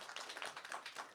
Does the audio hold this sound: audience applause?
yes